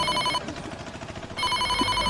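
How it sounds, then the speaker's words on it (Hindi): A mobile phone rings for an incoming call, its electronic ringtone pulsing in two close, steady bursts with a short gap between them, heard alone without any talking. "तभी उसके मोबाइल पर कॉल आया।"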